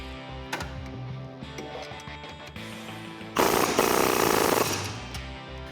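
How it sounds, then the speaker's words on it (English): A Rough Country leveling kit bolt on a 2004-2008 Ford F150 is run down with a 15mm socket, heard as a loud close burst of rapid rattling hammering from a power tool after a stretch of lighter mechanical knocks. "Grab your 15mm socket and 18mm wrench and tighten it down."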